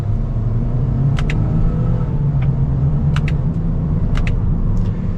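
A 2024 Toyota Corolla XSE sedan pulls away, its low engine rumble and road drone steady and close throughout, with a few brief clicks from inside the cabin.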